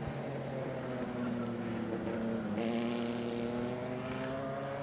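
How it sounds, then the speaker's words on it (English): A 1955 Elva Mark 1 race car drives past on a road circuit at Sonoma, its engine a steady droning roar heard from a distance, with no voices. "And there's the 814 going through. It's the Elva Mark 1 1955."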